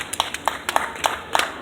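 A crowd that includes kids gives a quick round of applause, a handful of sharp claps landing at irregular intervals against a steady hiss of background noise.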